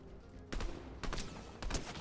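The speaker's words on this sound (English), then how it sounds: "Oh, wait, they're shooting." Bursts of gunfire in the Fortnite video game, three sharp volleys of rapid shots at roughly half-second intervals, the first two followed by a longer third, fairly faint and with no voices.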